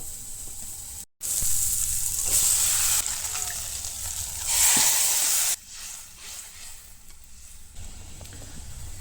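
Water poured into sizzling spice paste of onion paste, Kashmiri chilli, salt and turmeric in a pan for pumpkin fish curry, giving a loud close hiss that swells, then settles to a quieter bubbling simmer.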